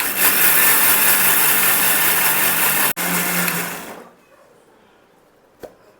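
A mixer grinder grinding soaked rice into dosa batter: a loud, steady, close whirring drone that cuts out briefly, runs again, then winds down to quiet, followed by a single click.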